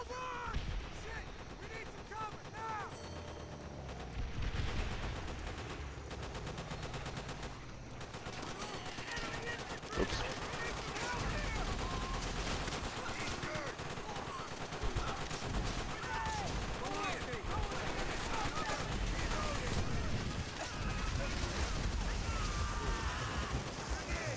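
Repeated trench gun blasts and other gunfire crack through a Call of Duty: World at War battle, arriving in dense bursts over a steady backdrop of game noise, with a voice talking at times.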